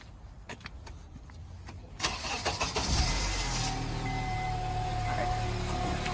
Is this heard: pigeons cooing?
no